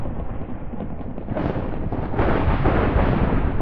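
Game thunder from lightning called down by a class ability in a Hunger Games match rolls as a dense, continuous rumble that swells louder partway through, with no voices.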